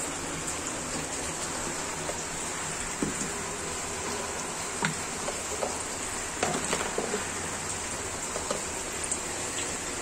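Whole cumin seeds hit hot oil and sizzle in a steady, dense hiss that carries evenly throughout, with occasional small pops and crackles standing out close by and no voices.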